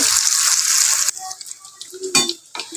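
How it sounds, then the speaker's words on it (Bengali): Beef shami kababs hiss loudly in hot oil in a pan, then the sizzle drops away as they are flipped, followed by a few clanks of a utensil against the pan. "এখন আমি বিফটা উল্টিয়ে দিব কাবাবটা"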